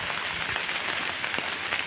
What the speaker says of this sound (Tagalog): Makulimlim na may halong ambon